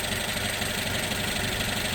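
A Renault Twingo engine idles steadily up close, an even rumble with a faint rhythmic knock and vibration and no one speaking.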